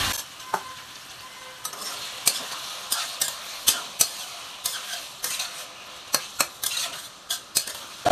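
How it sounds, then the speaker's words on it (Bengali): Ash gourd fries in a pan without salt, with a low sizzle under repeated sharp metallic clinks and scrapes as a spatula stirs it. The strokes are irregular and close, and there is no talk. "লবণ ছাড়াই আমি এটা ভেজে নিচ্ছি।"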